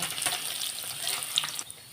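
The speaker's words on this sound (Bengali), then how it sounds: "লাল লাল করে পনিরটা আমার ভাজা হয়ে গেছে" Paneer pieces sizzle and crackle steadily in hot oil, a close, continuous frying hiss with occasional brighter pops and no voices.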